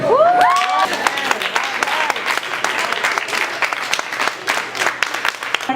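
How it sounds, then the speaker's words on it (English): Loud, close applause from an audience after a poetry reading, opening with a rising whoop of cheering before settling into sustained, dense clapping. "To just give a nice round of applause for Eunice."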